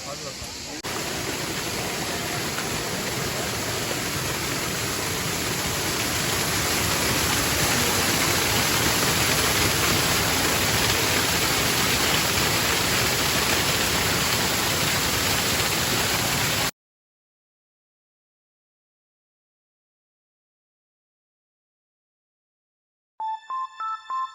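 The large Savruk waterfall in Kahramanmaraş pours with a loud, steady broadband roar for about seventeen seconds, then cuts off abruptly; after a gap of silence, a few seconds of music come in at the end.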